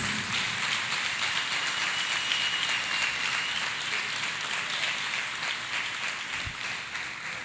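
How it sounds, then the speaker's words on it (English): A church congregation claps hands together in a dense, sustained wash of applause, steady and fairly loud for the whole stretch, with no distinct talking over it. "People of God, let us clap hands for Jesus."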